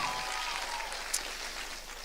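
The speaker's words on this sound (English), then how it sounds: "Can we have one more round of applause for all the group poems?" An audience at a Scottish youth poetry slam regional heat claps for the group poems, a steady, fairly faint wash of applause heard from a distance, with no voices over it.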